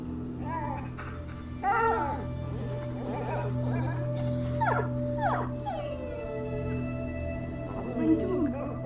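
Dog whimpering and whining in the video game A Plague Tale: Innocence, several short plaintive cries over a steady low game hum, with a person talking now and then.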